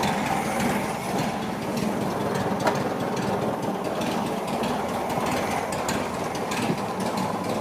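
The engine of a Porsche 911 Turbo 964 replica runs on until its petrol is exhausted, a steady, busy mechanical clatter with fine ticking and rattling, heard close and continuous with no voices.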